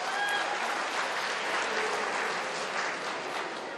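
An audience at a FeTNA 2016 event gives a dense, loud round of applause that holds steady for the whole stretch before easing slightly at the end.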